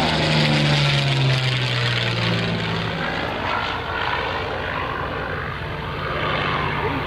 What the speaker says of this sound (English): Nice big slow roll by Sean Carroll, the Yak-9.